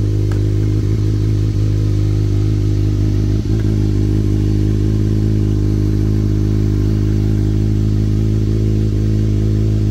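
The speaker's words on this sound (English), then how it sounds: "So we'll probably move you guys behind and then maybe do just a few revs here" A Kawasaki Ninja ZX6R sport motorcycle with a de-catted exhaust idling loud and close, a steady deep throbbing rumble that barely changes over ten seconds, with a faint clink midway.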